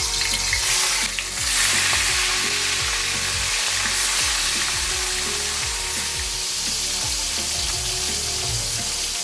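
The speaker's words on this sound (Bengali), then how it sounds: "মাছগুলো আমি একে একে দিয়ে দিচ্ছি।" Katla fish pieces fry in hot white oil, a loud, steady close-up sizzle and crackle that runs throughout with no voices.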